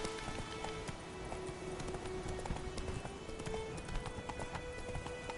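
Roach the horse gallops in The Witcher: Wild Hunt, a steady quick run of hoofbeats under a continuous hiss of ambient game noise, with no voices.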